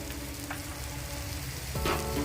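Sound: sour yogurt sizzling in pan for rohu fish curry

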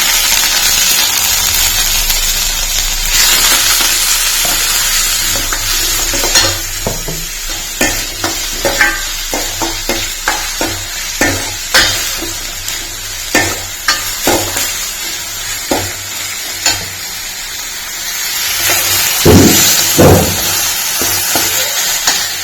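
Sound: mustard seeds, garlic, ginger and onion frying in coconut oil

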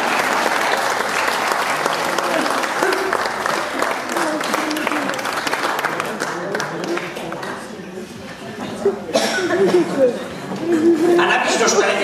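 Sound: audience applause

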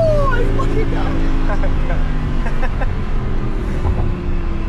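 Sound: Lamborghini engine roar

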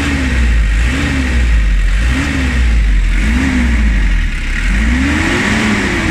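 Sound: van engine revving

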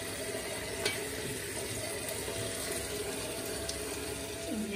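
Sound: washing okra under running tap water

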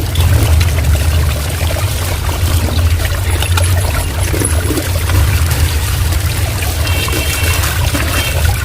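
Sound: washing drumstick leaves with water

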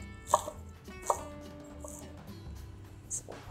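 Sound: knife slicing crisp fresh lettuce leaves

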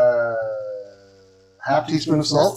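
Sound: dogs fighting, howling and barking

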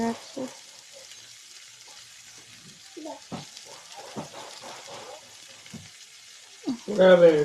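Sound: stirring food frying in a pan

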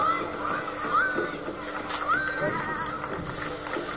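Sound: horse hooves and carriage wheels, sound effect

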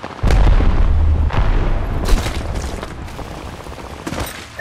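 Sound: arc star grenade explosion in Apex Legends video game

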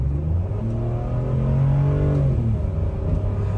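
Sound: Land Rover LR3 accelerating onto highway in sport mode

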